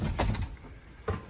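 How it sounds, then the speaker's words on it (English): A school bus door swings shut with two soft thuds a moment apart during a pre-trip inspection inside the bus, close by and alone, with no talking. "make sure your door is closed"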